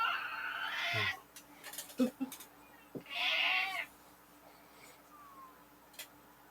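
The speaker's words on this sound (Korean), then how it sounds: "고양이들이 갑자기 단체 합창을 해서" Several cats meow together in a ragged chorus: a long wavering cry opens, short yowls follow, and another drawn-out meow swells around the middle before fading to quiet.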